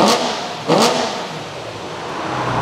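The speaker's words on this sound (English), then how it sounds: "Okay, okay, give it a proper rev then." A Bugatti Chiron's engine revs in two sharp, loud bursts close by, the first right at the start and the second a moment later, then settles back to a steady lower drone.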